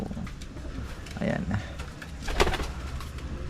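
Pigeons coo in a breeding section, their soft low calls coming close and fairly clear amid a dull background hum, with a brief higher chirp near the end.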